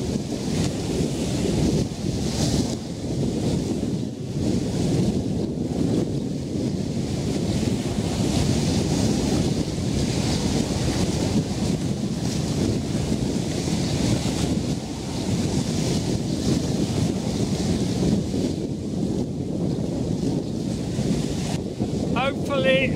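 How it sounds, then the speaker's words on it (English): Gusty outdoor wind buffeting a microphone during windshield tests, a loud continuous low rumble that surges and eases unevenly throughout, with no voices. "The wind is not as steady today as it was yesterday."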